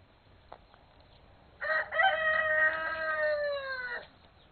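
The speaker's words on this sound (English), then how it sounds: "I hear the baby chicks crowing too." A chicken crows once at a Texas house, a long wavering cock-a-doodle lasting over two seconds, clear and fairly near against quiet background with faint distant noise before it.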